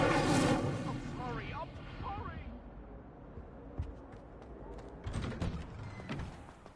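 An Incendio fire spell is cast in Hogwarts Legacy, a whooshing, crackling burst with a few sharp hits, heard after someone speaks, amid game ambience.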